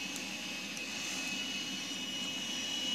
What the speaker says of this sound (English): they might think it's another plane taking off